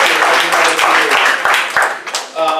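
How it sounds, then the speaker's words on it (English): Audience applause at a youth symposium for Ms. Dennis, a dense burst of clapping with voices mixed in, thinning toward the end. "a round of applause for Ms. Dennis"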